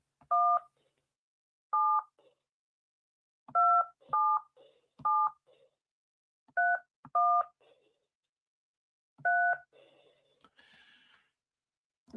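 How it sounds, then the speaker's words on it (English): Telephone keypad tones beep one at a time in an irregular sequence of short dual-pitch blips, clear and isolated against silence. "Let me just dial this phone number up."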